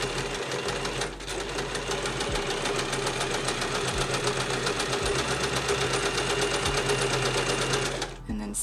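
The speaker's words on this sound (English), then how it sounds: "And I begin sewing and just let it gather" Sewing machine running steadily to gather fabric, a long continuous mechanical whir with fast rhythmic needle ticks, close and loud, with brief pauses at start and end.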